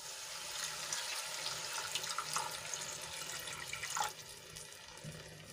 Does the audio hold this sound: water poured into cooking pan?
yes